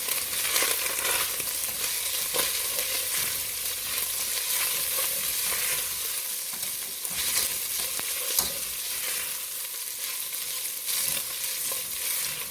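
Garlic cloves stirred into chili con carne with ground beef in a hot pan, a steady, fairly loud sizzle running throughout with scraping stir strokes over it.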